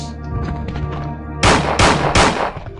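Gunfire in the video game Resident Evil 2: three loud, close, sharp blasts in quick succession follow a stretch of tonal in-game sound.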